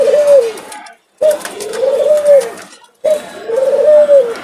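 Dove cooing in repeated phrases at close range, three rounded coos separated by short pauses, loud and clear with no talk over it.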